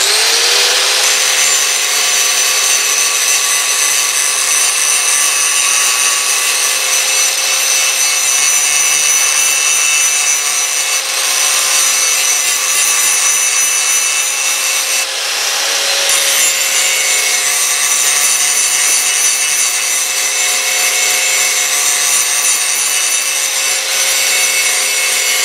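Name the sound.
belt sander grinding a Damascus knife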